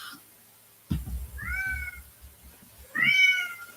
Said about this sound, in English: My God, Barry, your cat is having a fit